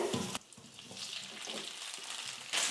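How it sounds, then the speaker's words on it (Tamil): Pieces of boiled potato fry in hot oil, a dense sizzle that drops briefly, surges back, then flares loudly again near the end, with no talking. "இப்போ இந்த எண்ணெயிலே உருளைக்கிழங்கு சேர்த்துக்கிறேன்"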